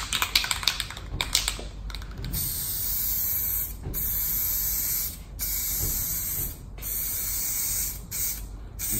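Spray can applying a second coat of backing paint along a mirror's black edge, a steady hissing spray running almost the whole time, broken by several short pauses between bursts.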